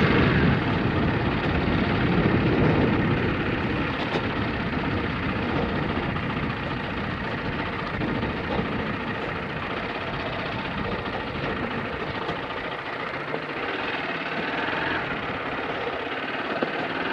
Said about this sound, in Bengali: নৌকো চলছে